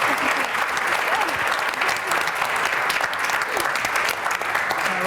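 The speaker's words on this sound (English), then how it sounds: "a round of applause, please" An indoor audience applauds steadily for about five seconds, dense clapping from many hands, near and sustained, with no voices rising above it.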